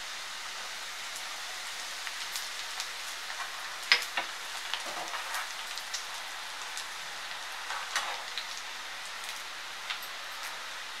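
Asafoetida goes into hot oil for a ginger pickle tempering, giving a faint, steady sizzle close by, scattered with tiny pops and crackles.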